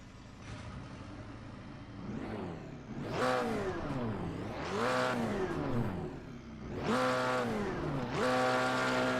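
A McLaren GT4 race car in the sim racing game Assetto Corsa Competizione revs repeatedly while stationary, each engine blip rising and falling in pitch in a nasal, almost quacking tone, several distinct pulses without speech.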